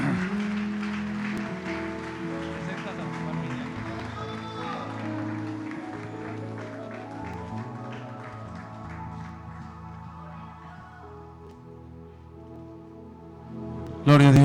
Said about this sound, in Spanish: démosle una ofrenda de palmas al gran Rey